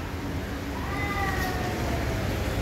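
A cat meows once with a drawn-out, rising-falling call over the steady loud drone of a bus interior, moderately close and alone without talk.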